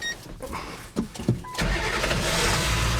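Car engine cranking with a jump starter unit hooked up, a few short clicks and cranks before the engine catches and settles into a steady, close running rumble.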